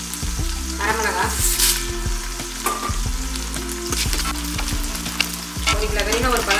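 Half a kilo of shallots and curry leaves sautéing for Chinthamani mutton in a large pan, a loud, dense, constant sizzle with stirring scrapes, and a low steady burner hum beneath.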